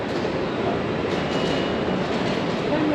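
Metro train in Bangalore, a steady loud rumble of rolling stock and rail noise running continuously throughout with no pauses.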